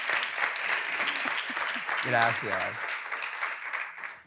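Steady applause from an audience fills the clip while a person briefly speaks a word over it.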